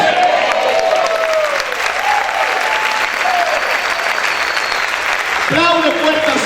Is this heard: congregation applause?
yes